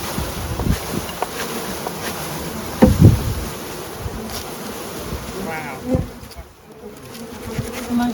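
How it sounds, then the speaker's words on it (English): Honey bees swarm during the installation of a package into a hive, giving a steady, close buzzing drone throughout, with a brief thud and one person's short exclamation partway through. "A nice pile of bees."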